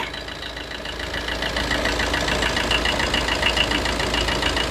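An engine idles steadily up close, a continuous rumbling drone with a faint rhythmic ticking that grows slightly louder and holds without any voices.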